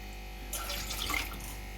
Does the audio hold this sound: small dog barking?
no